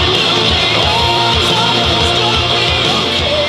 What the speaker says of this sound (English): So now we've got drums, bass, rhythm guitars, and lead vocals.